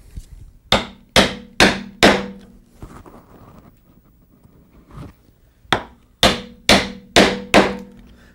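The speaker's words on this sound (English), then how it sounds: "we start coming back along the mortise like so, a couple of good bangs each time" A wooden mallet strikes a chisel to chop a mortise in wood, landing sharp, close thwacks in quick groups of four. A quieter pause with faint scraping sits between the sets of blows.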